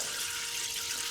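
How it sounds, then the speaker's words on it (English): Water spraying steadily from an off-grid outdoor shower head, a continuous close hiss with no breaks and no voices. "you can just go ahead and turn on your shower head"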